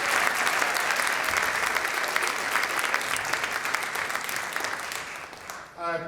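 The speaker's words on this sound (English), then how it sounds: "Give them a big round of applause" A big round of applause for a bicentennial committee at a birthday party kickoff, dense continuous clapping from a sizeable crowd, loud and steady before tapering off as a voice begins at the end.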